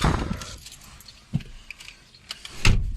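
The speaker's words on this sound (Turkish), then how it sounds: "Şu anahtarımızı alalım." Car keys for a Renault jangle and clink close by in short bursts, with a few sharper knocks and soft handling noises between them.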